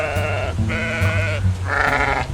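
A cartoon sheep in an animated comedy lets out three loud, wavering bleats in quick succession, close and clear with no talking over them.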